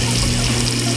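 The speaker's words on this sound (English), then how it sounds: "So I'm gonna turn my water on." A kitchen faucet runs at full flow into a sink for dishwashing, a loud steady rushing hiss of water with no pauses and no talking.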